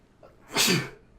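A single close sneeze, a short breathy burst that rises and fades in about half a second.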